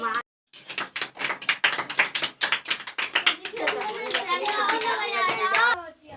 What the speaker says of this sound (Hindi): तो लड़कियों के लिए एक बार जोरदार ताली बजा दिया जाए।